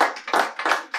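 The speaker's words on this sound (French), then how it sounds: "Allez, des applaudissements, des applaudissements." Rhythmic clapping in short bursts of about three beats per second, close and fairly loud, from an audience urged on during a show.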